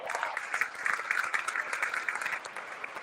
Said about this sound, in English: big round of applause for Matthew Barrett.